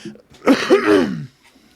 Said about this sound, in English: I'll follow that up by coughing a little